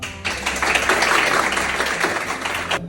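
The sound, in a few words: audience applauding an athlete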